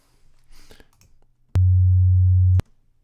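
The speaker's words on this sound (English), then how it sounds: "And there's our sine wave again." A pure, low steady tone sounds for about a second, starting and stopping abruptly with small clicks, after faint background noise.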